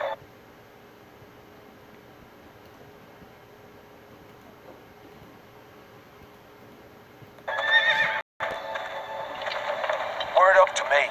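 A horse neighs loudly in a Game of Thrones video game, a bright whinny bursting in after several seconds of quiet ambient hum, broken by a brief gap and followed by a second, higher neigh.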